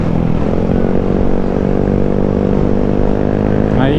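A motorcycle cruises along a shaded tree-lined road near Pantabangan Dam, its engine humming in a steady, loud, close drone with a brief rev toward the end.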